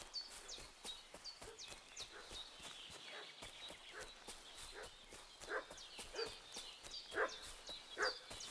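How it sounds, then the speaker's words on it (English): Dog in the medieval role-playing game Kingdom Come Deliverance 2, barking repeatedly and fairly faintly in the distance over footsteps and ambient village sounds. "What's that dog making such a fuss about?"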